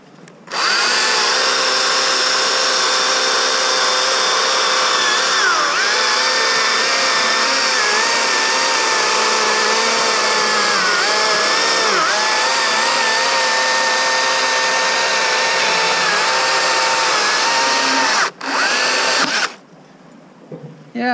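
A STIHL MSA 160 T battery chainsaw cuts through a log about 6.5 inches thick, its high electric whine running loud and continuous for nearly twenty seconds with slight dips under load before it stops.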